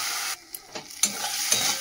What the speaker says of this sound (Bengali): গ্যাসটা কমিয়ে নেবো, একটু বাটিটা দিয়ে জল দেবো, দিয়ে মশলাটা ভালো করে কষাবো।